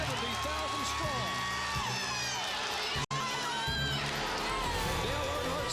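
A huge crowd of 170,000 roars and cheers at a NASCAR restrictor-plate race, a dense, sustained wall of noise with a commentator talking over it and a brief dropout midway.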